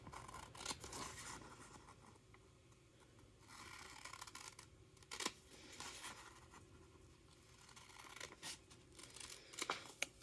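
Scissors cut the sides of a paper sports trading card in short, quiet, intermittent snipping and rustling bursts separated by near-silent pauses. Nobody speaks.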